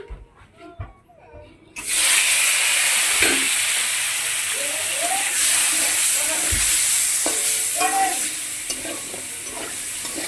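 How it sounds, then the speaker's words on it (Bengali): Paneer pieces drop into hot oil in an unwashed wok used earlier for frying potatoes, bursting into a loud, steady sizzle after a quiet start with some faint voice, with occasional crackles and spatula clatter. "হালকা করে পনির ভেজে নেব"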